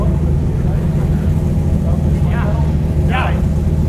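A C5 Corvette with a 500-horsepower engine idles steadily just after starting, a loud, constant low rumble filling the whole stretch while people talk over it.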